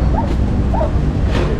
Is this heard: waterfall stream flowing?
no